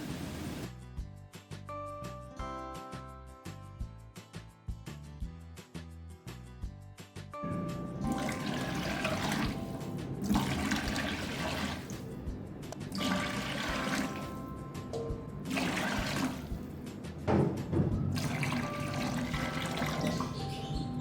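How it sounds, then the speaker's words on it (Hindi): Water poured into a pot of rice for pea pulao, first a few splashing pours with gaps, then a louder, fuller continuous gush of liquid filling the pot, heard alone without talk. "ये 6 गिलास मैंने पानी डाल दिया।"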